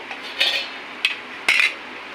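A spoon scrapes and clinks against a metal pot while an egg curry with coconut powder is mixed, giving three or four short metallic strokes close by with no voices.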